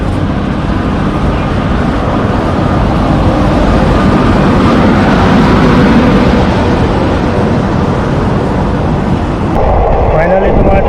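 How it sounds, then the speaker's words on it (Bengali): A train pulls in to platform 3 of a railway station with a loud, continuous broadband rumble and rolling noise, steady throughout and easing slightly near the end. "ফাইনালি তোমার দীর্ঘ আধা ঘন্টা ওয়েট করার পর ট্রেন চলে আসছে তোমার 3 নম্বর প্ল্যাটফর্মে"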